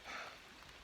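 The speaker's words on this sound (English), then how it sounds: "it's starting to rain a bit more here" Steady light rain falling outdoors, a soft continuous hiss of drops on surfaces, faint and even throughout with no voices.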